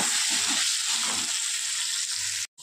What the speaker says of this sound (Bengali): নুন হলুদ দিয়ে পটলগুলো খুব ভালো করে আমি ভেজে নেব